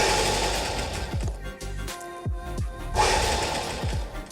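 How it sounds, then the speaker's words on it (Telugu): A sewing machine stitches down the edges of a cloth carry bag in short, uneven bursts of rapid mechanical chatter, with brief pauses between runs, close and moderately loud. "అంచులు 2 నీట్గా పట్టేసి కింది వరకు స్టిచ్ చేసేసుకోవాలి."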